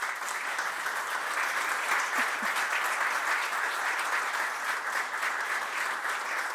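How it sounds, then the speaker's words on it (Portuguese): Sustained applause from a seated audience at a ceremony honouring new honorary members, a dense, even wash of many hands clapping, steady and moderately distant with no break. "peço, por favor, uma grande salva de palmas"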